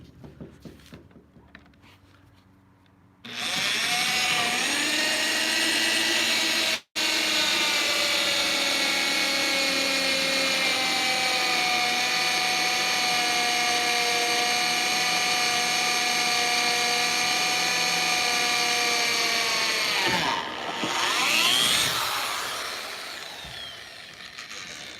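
A power drill runs at slow speed while boring into trailer decking, a steady, loud motor whine that starts abruptly, cuts out briefly, then continues for most of the clip before winding down.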